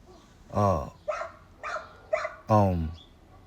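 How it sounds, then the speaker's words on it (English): Several barks from dogs in the background: a loud full bark, three shorter, lighter yaps in a quick series, then another strong bark, with no talking. "forgive me for the fucking dogs barking in the background"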